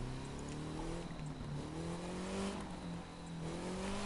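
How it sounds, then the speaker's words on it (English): A car engine in The Crew 2 racing game drones steadily with rising and falling revs, a continuous loud hum with faint tire noise and no talk. "I think the car's making strange sounds."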